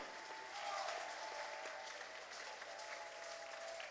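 Church congregation clapping during a sermon, a sustained crowd applause that rises briefly then continues at an even level throughout, somewhat distant.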